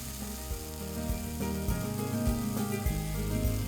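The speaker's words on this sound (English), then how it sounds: "we're gonna let this sort of sear, build up some fond on the bottom of the pan, and release some of that great oil" Fried rice with kimchi searing in a hot oiled pan, a steady close sizzle that holds evenly throughout, with background music playing underneath.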